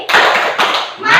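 Classroom group of students and teacher clapping in a short burst of applause for a presenting group, a few quick rounds of close, lively hand claps.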